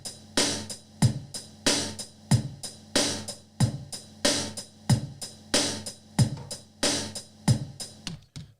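Programmed bottom drum beat on an SP-1200 sampler, a steady boom-bap loop of punchy kicks and sharp snares repeating evenly for several bars, clear and alone.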